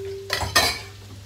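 Vegetables stirred in a cooking pan, two sharp clattering scrapes of utensil against metal over a low steady hum, close and distinct.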